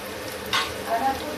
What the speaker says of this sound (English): See friends, it is frying nicely now.